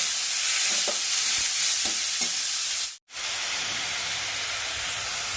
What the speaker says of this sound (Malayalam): എല്ലാം കൂടെ നന്നായി യോജിപ്പിച്ച് ചെറിയ തീയിൽ വേവിച്ച് എടുക്കും